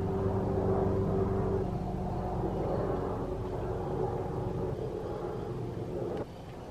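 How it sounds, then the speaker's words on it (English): An airplane passes overhead outdoors near a person painting houseplant pots, a steady low broadband roar that holds loud for several seconds, then drops somewhat near the end. "I just noticed that there was an airplane going over, so that might have been really loud"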